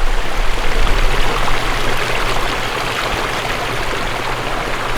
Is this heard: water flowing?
yes